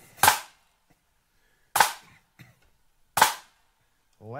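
Drum flam strokes: three sharp, loud hits spaced about one and a half seconds apart, each a quick doubled crack with short decay, with a faint tap between the second and third and a brief sound starting at the end.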